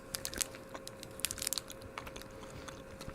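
Close, quiet crunching of a peanut butter candy egg being chewed, a rapid series of small crisp crackles and snaps in the mouth with no talking.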